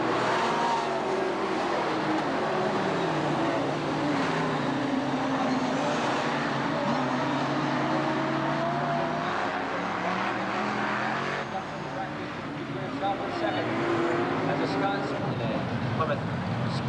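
Late model race cars at Hell's Corner Speedway roar past as they accelerate back to green after a caution, engines rising and falling in pitch, with a commentator talking over the loud, continuous racing noise.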